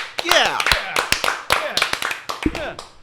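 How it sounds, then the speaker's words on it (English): Hand clapping spreads into a dense patter of claps from several people, close and lively, mixed with talking voices throughout. "A slow clap, ladies and gentlemen."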